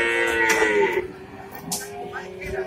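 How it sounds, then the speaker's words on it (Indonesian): A Javanese cow calf moos at a livestock market in Brebes, one long loud close bellow fading out, followed by market chatter and background noise. "Ini pedet sapi Jawa."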